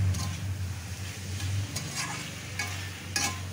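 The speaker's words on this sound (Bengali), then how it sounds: "এইভাবে মশলাটাকে এটা দিয়ে কষিয়ে নেব।" Spice paste sautéed in mutton fat while being made with chickpeas: a steady close sizzle with repeated scraping strokes of a spoon stirring in the pan, no voices.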